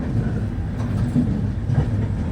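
Continuous low rumble of a train rolling along the tracks, with faint rhythmic clacking and steady mechanical noise, no voices.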